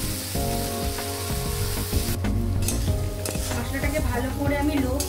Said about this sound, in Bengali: 1 চামচ জিরে গুঁড়ো, 1 চামচ কাশ্মীরি লঙ্কার গুঁড়ো দিয়ে ভালো করে মশলাটাকে ভেজে নেব